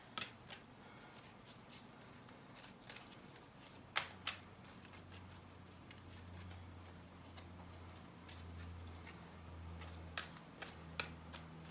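Tarot cards being shuffled, faint soft riffles and scattered crisp snaps and taps at irregular intervals over a quiet room hum, with no talking.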